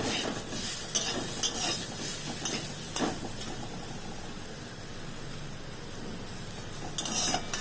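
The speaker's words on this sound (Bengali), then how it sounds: "এটাকে একদম লাল লাল করে ভেজে নেব।" Mashed jackfruit fries in a pan with a dense, even sizzle, broken by occasional utensil clinks and stirring scrapes close by, and no talking.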